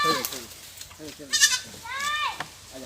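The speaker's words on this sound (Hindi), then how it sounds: "अपने बकरी है" A goat gives several wavering, high bleats in quick succession, close by, with human voices mixed in among the calls.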